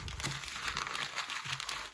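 Heavy paper seed packets of peas crinkle and rustle continuously as they are handled up close, with a brief soft crumpling throughout.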